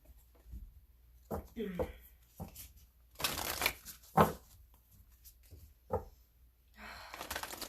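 Oracle cards shuffled and pulled for a tarot reading, heard as soft close shuffles and a few sharper card snaps, mixed with quiet breaths and talk.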